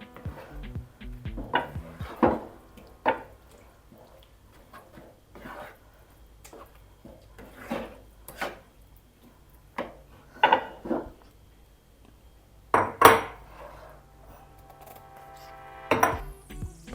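Oil being mixed in a pan with a utensil, heard as sparse clinks and scrapes of metal against the pan, scattered irregularly and fairly close, with no voices.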